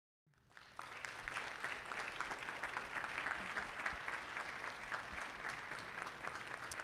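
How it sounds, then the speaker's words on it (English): A town hall audience breaks into applause after a brief silence. It builds quickly into a dense, sustained clapping that stays steady and moderately loud for several seconds. "I want to hear a heartfelt welcome and an applause for our amazing"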